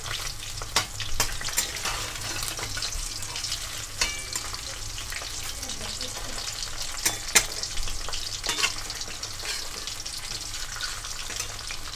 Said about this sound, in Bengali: ট্যাংরা মাছের এক পিঠ খুব ভালো করে ভাজা হয়ে গেছে এবার আমি অপর পিঠ উল্টে দেবো